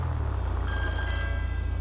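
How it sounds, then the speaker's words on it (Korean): A mobile phone rings inside the video game GTA 5, a bright electronic ringtone starting after a low engine-like hum, clear and close with no talk over it. "어 전화 왔다 아 전화 받는 거구나"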